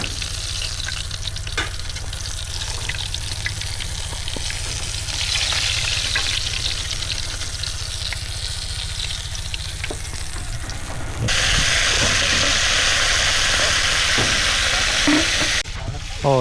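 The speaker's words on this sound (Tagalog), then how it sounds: "Tingnan natin yung kanin kung kumukulo na." A pot of rice coming to the boil, a steady bubbling, sizzling hiss that runs continuously and grows louder partway through, close by with no talk.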